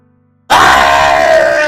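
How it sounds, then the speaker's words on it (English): A young woman's anguished scream from the Doki Doki Literature Club visual novel character Sayori bursts in after near silence, loud and sustained, raw and strained throughout. "she screams as loudly as she can"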